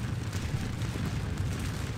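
Musket volley fire in the Napoleonic battle game Scourge of War: Waterloo at Quatre Bras, a continuous rumbling roar of massed shots blending into a dense, steady barrage throughout.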